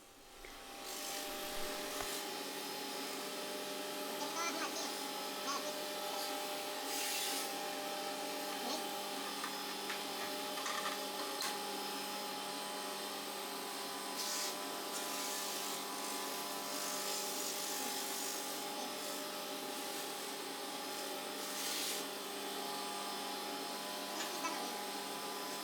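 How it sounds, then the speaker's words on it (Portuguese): An electric sander hums steadily while a wooden part is pressed against it, the motor drone broken by occasional scraping and rubbing, with no talking. "A gente vai lixando aí na lixadeira aos pouquinhos"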